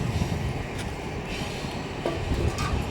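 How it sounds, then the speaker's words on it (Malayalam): A train passes close by, its continuous rumble and wheel clatter steady throughout with no talk. "ട്രെയിൻ പോകുന്ന ഒരു വ്യൂ കാണാന്നോണ്ടേ"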